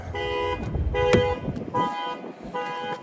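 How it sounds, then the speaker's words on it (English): A car alarm blares in repeated harmonic bursts near a 2024 Genesis G80 3.5TT Sport Prestige AWD, pulsing on and off across a few seconds with a brief sharp honk-like tone in the middle. "You can't catch a break from these alarms"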